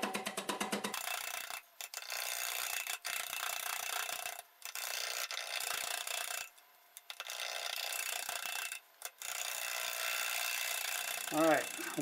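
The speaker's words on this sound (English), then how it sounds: "Doing about 500 RPM with a half inch bowl gouge." A wood lathe spins a piece of cherry at about 500 RPM while a half-inch bowl gouge cuts it, giving a close, loud scraping rasp that breaks off in several short pauses, with a brief tonal squeak at the end.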